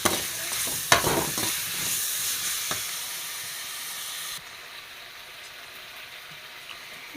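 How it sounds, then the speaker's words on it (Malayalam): Tomatoes sautéing in oil in a pan with grated coconut fill the first few seconds with dense sizzling and stirring scrapes, then the frying drops to a quieter steady hiss. "ഇതൊന്ന് എണ്ണയിൽ വഴറ്റിയെടുക്കാം."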